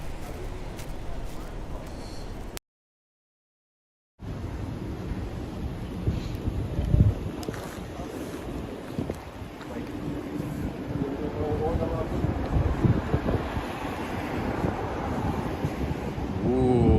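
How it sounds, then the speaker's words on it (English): Wind gusting across the microphone during an evening walk through Manhattan's Upper West Side, a loud rumbling roar that drops out briefly and then builds stronger, with a person talking faintly beneath it. "The wind is picking up."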